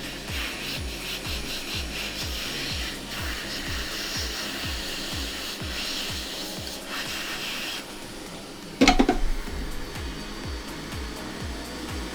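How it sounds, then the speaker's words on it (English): A heat gun shrinks heat-shrink tubing over the solder points of a repaired earbud cable, giving a steady close blowing hiss with a faint rhythmic flutter underneath and a brief louder clatter partway through. "we can grab our heat gun and go ahead and heat the heat shrink to shrink over the solder points"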